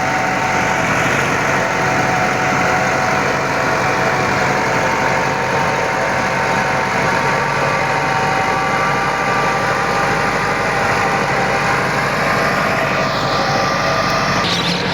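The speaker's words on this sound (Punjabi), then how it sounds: "ਫਿਲਹਾਲ ਟਰੈਕਟਰ ਪਹਿਲੇ ਲੋਹ 'ਚ ਚੱਲ ਰਿਹਾ ਜੀ" A Massey Ferguson 375 tractor, 2010 model, running a rotavator in first gear, drones loudly and steadily at a constant low speed throughout, with a continuous rumble and faint whine.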